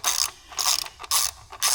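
A hand ratchet snugs the valve cover bolts on a 2015 Honda CR-V, with four loud close bursts of rapid clicking separated by brief pauses.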